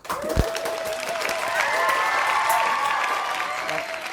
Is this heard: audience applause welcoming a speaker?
yes